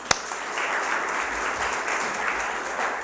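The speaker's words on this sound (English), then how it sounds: "but we can clap for him anyway" Congregation applause at a Unitarian Universalist Sunday service fills the room with a steady wash of many hands clapping, even and sustained from start to finish after a sharp opening clap.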